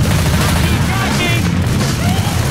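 A grenade explodes in the Left 4 Dead 2 video game, part of a dense, loud, continuous wash of booms and gunfire with voices mixed into the chaos.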